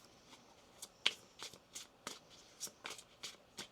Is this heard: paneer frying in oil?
no